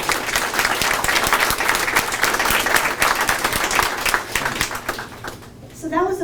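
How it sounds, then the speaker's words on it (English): Applause from the audience at a lake association's 100th anniversary annual meeting, a dense, steady wash of many hands clapping. It holds for about five seconds and then thins out as it fades away. "Please join me in expressing applaud and appreciation to everyone that's protecting the water for you."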